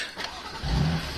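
A BMW M4 CS engine fires up after the start button is pressed, a short starter whirr followed by a deep, loud rising rumble as the engine catches and settles.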